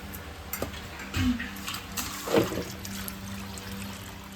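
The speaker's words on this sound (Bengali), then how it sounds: "মাংসটা আমি ধুয়ে পরিষ্কার করে নেব" Raw chicken pieces being rinsed in a bowl of water at home, with faint splashing and trickling, a couple of brief clinks of a utensil, and low steady background hum; no talking.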